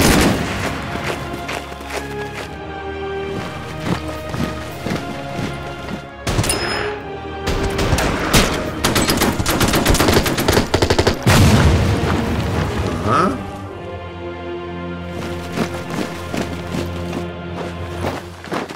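Anti-aircraft gunfire in the WW2 strategy game Order of Battle, heard as dense repeated booms and bursts over game music, with loud explosive clusters around the middle before easing back to a steady backdrop.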